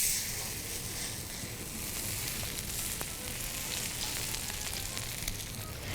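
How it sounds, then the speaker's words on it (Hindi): Peshawari chapli kebab fries in oil with a steady, even sizzle that stays moderately loud and close throughout, with no talking over it. "मैं उसमें ऑयल में इसलिए फ्राई कर रही हूँ क्योंकि उसमें ऑलरेडी चर्बी है"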